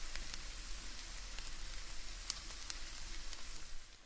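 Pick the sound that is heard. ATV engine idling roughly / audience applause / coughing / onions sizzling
onions sizzling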